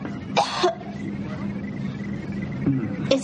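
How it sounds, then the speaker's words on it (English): Two short coughs, one near the start and one near the end, break through a steady low rumble of background noise in an infirmary. "How long have you had that cough?"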